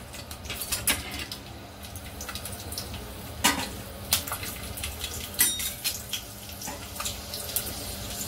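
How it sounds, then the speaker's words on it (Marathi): About ten to fifteen garlic cloves sizzle and crackle in a spoonful of hot oil in a cooking pot, a steady frying hiss with scattered sharper pops and a few clinks, no talking. "आता मी इथं 10-15 लसूणच्या पाकळ्या टाकते तेलामध्ये।"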